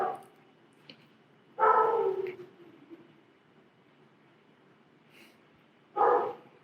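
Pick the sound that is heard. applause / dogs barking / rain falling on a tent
dogs barking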